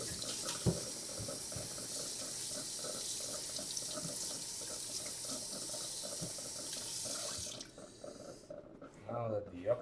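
Tap water runs steadily over suede Gucci chukka boots, a close, continuous hiss and splash that cuts off near the end, followed by brief handling noises.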